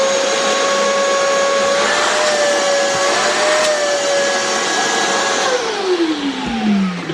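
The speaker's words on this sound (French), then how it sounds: "Tandis qu'un aspirateur d'atelier, ici, quand je le pars" A workshop vacuum cleaner runs loud and close with a steady high-pitched motor whine and rushing air, then its pitch slides down as the motor begins to wind down.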